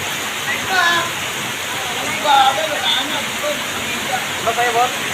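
Strong floodwater rushes past a flooded shop in a steady, loud roar of churning water with a few splashes, and people can be heard talking over it.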